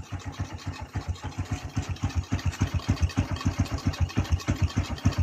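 A Honda CB125 with a chicken pipe exhaust idles close by, its exhaust thumping in a fast, steady, slightly uneven pulse with a raspy, throaty edge.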